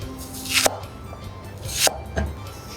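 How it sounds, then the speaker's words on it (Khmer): Onions being finely chopped with a knife on a board: three sharp, separate chops with short pauses between them and no talking. "ទាប់មកយើងយកខ្ទឹមបារាំងមកហាន់វាឲ្យល្អិតមក"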